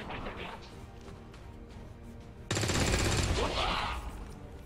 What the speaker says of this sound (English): I shot the propane tanks